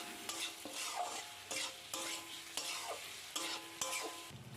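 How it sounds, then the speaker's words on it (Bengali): Fried potatoes with salt and sugar are stirred in a pan for an egg and potato bora curry. A spatula scrapes in repeated strokes about once a second over a steady, soft sizzle, with no talking. "এবারে আবারও সব কিছু নেড়েচেড়ে নিচ্ছি।"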